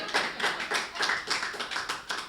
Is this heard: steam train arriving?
no